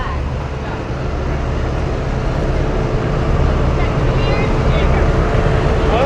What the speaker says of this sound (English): as New Holland is driving by